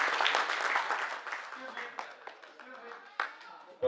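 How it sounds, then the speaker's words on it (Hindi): An audience claps at a ceremony as names are read out, brief scattered applause beneath someone speaking over a loudspeaker. "तालियां आप बजाते रहें।"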